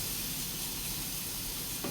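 Pork frying in oil in a pan, heard as a steady, close sizzle with dense crackle that holds even for the whole moment, and no voices over it.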